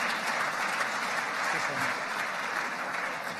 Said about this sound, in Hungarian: de egy nagy tapsot azért megérdemel